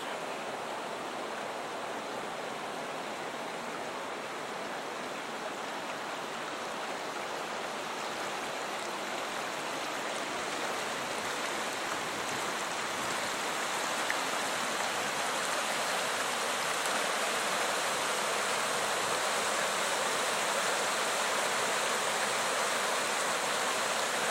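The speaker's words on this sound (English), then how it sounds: "I'm standing on the edge of a little river here as it rips down through here between some big boulders" A small river rips down between big boulders in a park, producing a loud, continuous roaring rush of whitewater that holds steady and swells slightly toward the end, with no one speaking.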